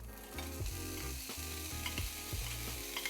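Garlic and onions sizzle in a heated pan for a burrito, a dense frying crackle with rhythmic scraping knocks as they are stirred, close and steady.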